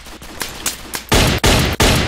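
Gunfire in the Roblox World War II game Ostfront 1941-1945: several faint shots, then three loud, close bursts in quick succession, each cut off by a brief gap.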